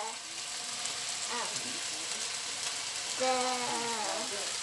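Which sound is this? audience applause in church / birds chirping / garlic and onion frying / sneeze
garlic and onion frying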